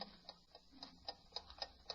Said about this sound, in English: I haven't heard a clock tick in this house for years.